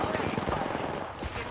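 Rapid gunfire in the Apex Legends video game rattles close and loud in dense bursts, layered over busy game sound.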